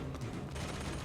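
Gunfire in the video game Bioshock Infinite, a short burst of rapid overlapping shots, dense and fairly quiet, with no talking.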